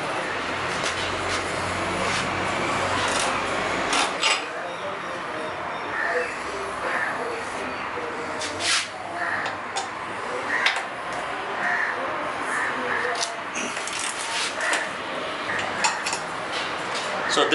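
Metal tool clicks and clinks ring out while backrest bolts are undone on a Royal Enfield Meteor 350 motorcycle, irregular and close, over steady background noise with occasional bird calls.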